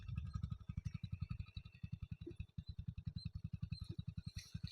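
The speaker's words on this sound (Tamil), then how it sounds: "வண்டியோட இன்ஜின் சவுண்ட் மட்டும் தனியாக கேட்கும் உங்களுக்கு" A Hero Passion Pro motorcycle idles nearby with a steady, rapid low thumping pulse from its engine, heard alone and fairly faint.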